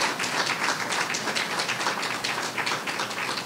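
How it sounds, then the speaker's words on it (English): Steady audience applause at a hospital renaming ceremony, dense clapping from a crowd filling the space continuously and fairly loudly, with no talk over it. "Let's give them another round of applause."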